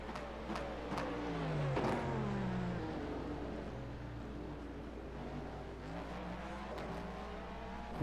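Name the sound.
race car passing an LMP2 car in a racing video game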